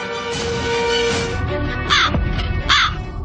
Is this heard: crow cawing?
yes